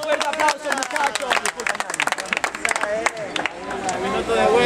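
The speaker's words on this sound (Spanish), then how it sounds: "¡Un buen aplauso, muchachos!" A crowd claps at a freestyle rap battle in Guayaquil, bursts of sharp, irregular hand claps building into sustained applause, with voices and chatter underneath.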